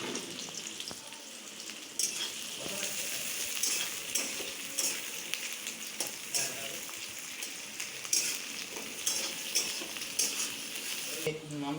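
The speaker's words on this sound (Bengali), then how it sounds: "হলুদ ছিটকাচ্ছে তেল" Onions fry with turmeric in hot oil for a village-style mutton curry, a continuous close sizzle and spatter punctuated by clinks of a utensil stirring against the pot, with no talk.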